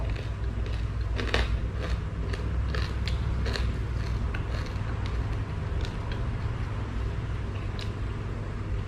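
Crispy fried pork is bitten and chewed, a steady close run of crunchy crackles and snaps layered over a constant low background hum.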